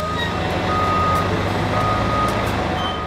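Lorries at a port sound a steady reversing beep over a loud, continuous engine and traffic rumble, close and with no speech.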